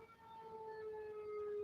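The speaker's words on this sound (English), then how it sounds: "There's a fire truck coming" A distant fire truck siren wails steadily, its tone sliding slowly downward, faint but clear over low background noise.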